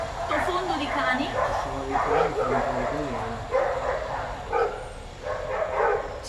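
Dogs barking and yipping in the background beneath someone talking steadily in the foreground, the barks coming in repeated bursts throughout.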